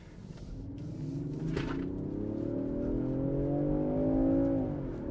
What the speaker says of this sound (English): let's see what this Range Rover Sport has in terms of acceleration